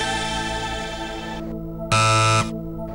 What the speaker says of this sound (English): Anyone else wants to hit the buzzer?